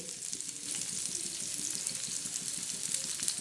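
Onion roasts in a pan with a dense, continuous sizzle, a steady bright crackle heard up close throughout with no talking.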